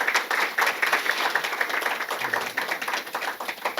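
Audience applause for Dr. Núñez Polanco after a lecture on Juan Bosch and García Márquez, a steady mid-level patter of clapping hands lasting throughout, with some individual claps standing out.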